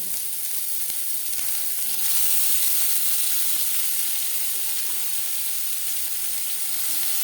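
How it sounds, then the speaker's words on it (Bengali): Onion sizzles steadily in hot oil for a fish-fat curry with aubergine, a continuous close hiss and crackle with no talking. "সবার প্রথমে আমি পেঁয়াজ ভেজে নেব।"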